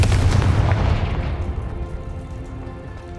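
A loud Confringo blasting-spell explosion in Hogwarts Legacy, a heavy boom at the start that decays into a long rumbling crackle over about three seconds.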